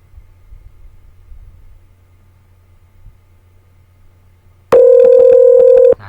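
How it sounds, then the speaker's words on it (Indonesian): Incoming call from a mobile phone arriving on a laptop VoIP softphone: after several seconds of faint low hum, a loud steady electronic ring tone sounds for about a second and then cuts off. "sekarang kita dial dari handphone ke laptop"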